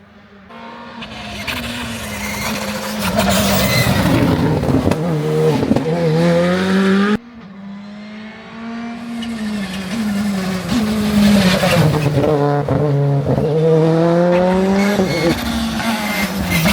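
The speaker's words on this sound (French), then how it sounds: "Alors il y a une voiture qui va arriver, ne bougez pas." A car races past at close range, the engine roaring and rising and falling through gear changes with tire squeal, then a second pass follows after a brief cut, loud and without talk.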